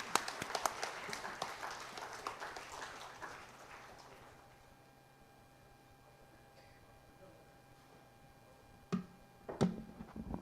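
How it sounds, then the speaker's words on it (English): An audience at an institute's silver jubilee celebration applauds after a professor is introduced. Scattered clapping fills the opening seconds, then fades into a quiet room, with a few faint claps or knocks near the end. "A round of applause."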